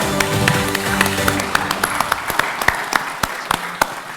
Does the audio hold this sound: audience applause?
yes